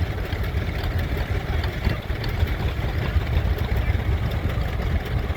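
A John Deere crawler idles at an old engine show, a steady low rumbling engine running close by with outdoor background noise and no talk.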